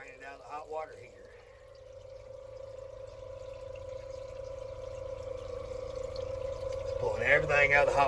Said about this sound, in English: Just drain it out of the hot water heater.